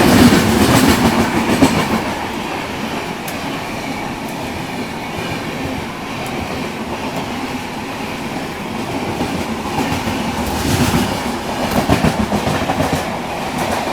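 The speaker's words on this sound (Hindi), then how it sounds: "कुछ ही देर में पहुंचने वाली है अपनी ट्रेन सिकंदराबाद।" The Delhi to Yeswanthpur Duronto Express runs on rails near Secunderabad, a loud continuous rumble with rhythmic clickety-clack of wheels and brief metallic squeal, heard from inside or close to the moving train.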